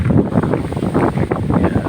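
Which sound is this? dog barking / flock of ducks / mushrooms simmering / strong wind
strong wind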